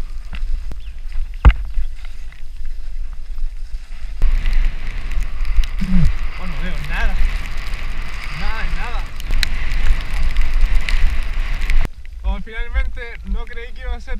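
Steady hiss of rain and wind noise while riding a bicycle uphill in heavy rain, continuous and close around the microphone, with someone speaking over it and breathing hard in places.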